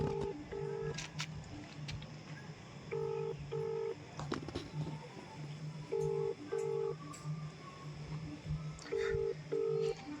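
An outgoing phone call rings unanswered, its ringback sounding as a steady pattern of paired tones repeating every few seconds, faint beneath background noise and someone talking.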